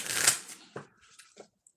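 A tarot deck being shuffled, a short burst of card riffling followed by a few faint soft taps and flicks, quiet and close.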